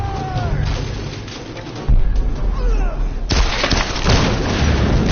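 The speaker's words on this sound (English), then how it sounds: "The entire place is coming down around us." A place collapsing amid explosions in the Tomb Raider video game, with heavy booms, crashing debris and gunfire-like blasts in loud successive bursts, dense and rumbling throughout.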